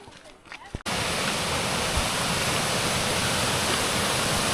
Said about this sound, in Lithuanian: Kriokliukai prie kriokliukų.